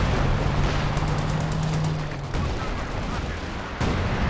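Battlefield gunfire with a tank round fired through a building, a dense barrage of shots and blasts filling the clip alongside a steady mechanical hum, cutting off sharply and then resuming near the end.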